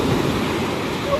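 A continuous near roar of large ocean surf breaking, broad and even throughout, with a faint voice briefly at the close.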